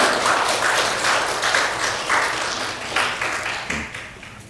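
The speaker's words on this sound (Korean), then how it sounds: "우리 박수로 한번 격려하겠습니다" Congregation clapping during a Sunday church service, a soft sustained wash of applause heard from a distance that gradually fades toward the end.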